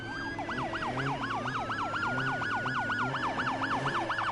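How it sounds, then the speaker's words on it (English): Police car sirens in a Need for Speed racing game wail in a fast, repeating up-and-down sweep, loud and close, layered with other siren tones over a low engine rumble. "There's an 8th police car!"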